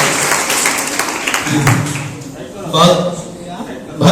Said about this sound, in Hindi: इस नन्हे सितारे के लिए एक मरतबा फिर तालियां बजाएंगे।